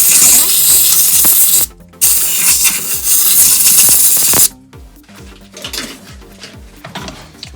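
Compressed air blows down the fuel pump area of a Mazda RX-7 FD in two loud, long hissing blasts with a short break between them. Quieter mechanical ticking and clinks follow.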